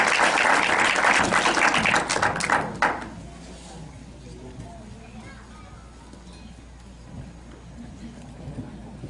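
An audience at an education congress in Tamaulipas applauds a speaker, dense loud clapping for about three seconds that cuts off sharply, followed by quiet room sound with a voice speaking.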